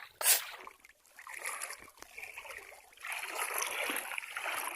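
A river flows and splashes at a crossing, a continuous close rushing of water with a sharp splash at the start and a steady wash building toward the end, heard outdoors with no clear speech.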